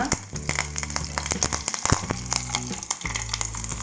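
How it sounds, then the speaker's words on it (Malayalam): Mustard seeds crackle and pop in hot oil while a Kerala sadya-style vada kootu curry is being tempered, with dense, irregular sharp pops over a steady sizzle throughout, close and fairly loud. "കടുക് പൊട്ടി വരുന്നുണ്ട്"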